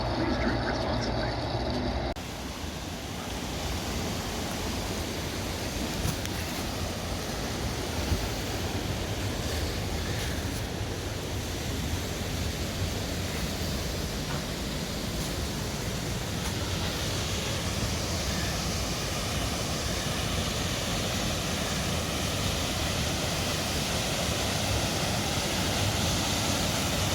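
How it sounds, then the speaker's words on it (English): A small hidden waterfall on a hiking trail roars as a broad, constant rush of falling water, close and loud, holding steady for the whole stretch after a brief quieter opening. "I showed the guys a little hidden waterfall"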